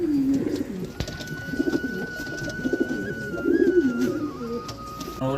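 Old pigeons, one around thirteen or fourteen years old, give soft, repeated rolling coos close by, a low burbling rhythm that continues through the clip with faint background hum.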